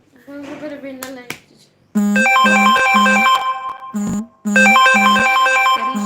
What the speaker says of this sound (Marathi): माझा फोन आहे पण नंतर उचलेला